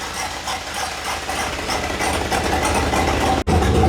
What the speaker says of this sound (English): The truck is honestly not too loud.